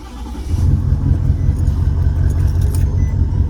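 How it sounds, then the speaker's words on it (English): A Cummins diesel engine in a work truck turns over and settles into a loud, steady low rumble that continues close by for several seconds, with no talking. "You hear that diesel Cummins?"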